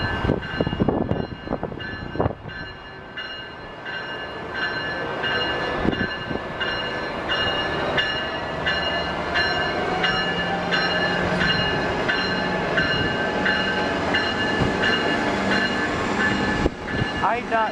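A passenger train hauled by an SC44 Charger locomotive rolls past near Kansas City, a steady rumble of wheels with rhythmic rail clicks, a held horn tone and a few sharp clanks up close.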